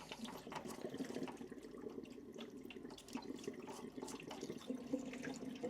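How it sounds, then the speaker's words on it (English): Water drains from a tankless water heater, running and splashing steadily into a bucket, a continuous close gurgling pour with no voices. "So don't be alarmed if you hear it draining."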